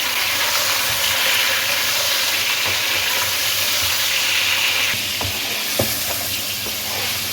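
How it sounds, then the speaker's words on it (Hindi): Chicken sizzles in a pan with browned onions and spices, a loud, steady crackling fry with occasional stirring clinks and scrapes, close up and without talk. "अब चिकन को इसमें भून लें।"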